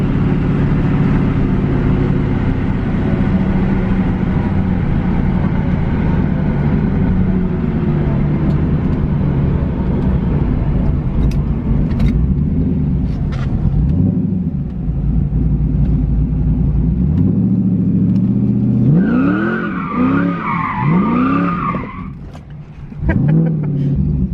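A Pontiac Trans Am WS6 with cam, intake and headers rumbles steadily while cruising on the street, a loud low engine drone that holds, dips, then rises through wavering revs near the end.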